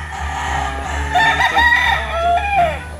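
A gamecock stag at a game farm crows loudly and close, a drawn-out rising and falling call over a steady low background hum.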